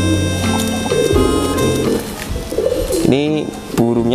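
Small bird giving repeated rhythmic coos and calls close by, loud and layered over background noise, with a voice speaking at times.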